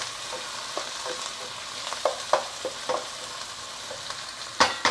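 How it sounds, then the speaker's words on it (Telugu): Onions fry in a pan for a tamarind-leaf prawn curry, a soft steady sizzle broken by several scraping stirs of a spoon, close and with no talking. "ఇదిగోండి ఇంకా ఉల్లిపాయ వేగిపోయింది"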